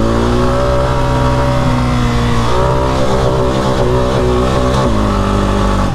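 Honda Rancher 400 ATV fitted with paddle tires, its engine revving hard and steadily throughout, pitch climbing and dropping with gear shifts, loud and close with no talk.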